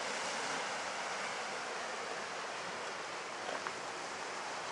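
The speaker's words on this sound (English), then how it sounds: "Starting to get a little wave action" Ocean surf washing against the rocky shore at Otter Point in Acadia as a hurricane approaches, a steady broadband roar of breaking waves with no talk and a small splash near the end.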